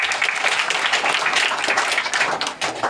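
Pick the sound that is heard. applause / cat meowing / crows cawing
applause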